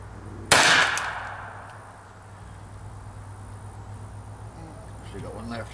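A single loud, sharp report from a Hi Point 995 carbine shooting at nails, ringing out and decaying over about a second, followed by quiet outdoor ambience with insects and someone speaking faintly near the end.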